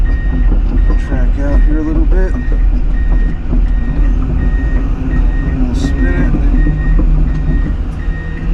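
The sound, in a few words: Komatsu PC210 excavator tracking and spinning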